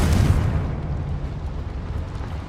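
A Confringo fire spell bursts in Hogwarts Legacy, a loud close explosion with a sharp onset that rolls into a dense, rumbling roar and holds steady without fading.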